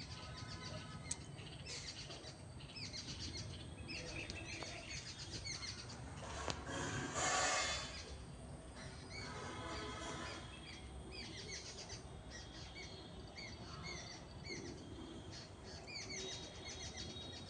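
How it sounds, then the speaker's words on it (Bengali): Several birds calling from the trees outdoors, faint scattered chirps over a steady background of rustling and ambient noise. "এই যে গাছের মধ্যে কতগুলো পাখি ডাকছে।"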